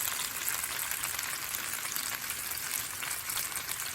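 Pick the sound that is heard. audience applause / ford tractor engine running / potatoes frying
potatoes frying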